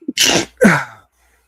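Two quick sneezes burst out close to the microphone in a studio-style sports talk setting, the first sharp and the second slightly shorter, followed by silence.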